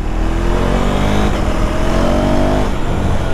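A 2024 KTM Duke 390 motorcycle accelerates in rain riding mode, its engine a loud, steady, close drone that rises gradually in pitch with no pause, no voices over it.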